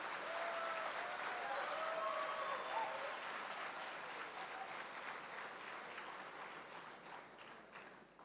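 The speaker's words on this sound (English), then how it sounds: "May I ask the audience once more to give a big round of applause." Sustained audience applause fills a hall at a centenary foundation day ceremony, steady dense clapping that slowly thins toward the end, with faint voices mixed in.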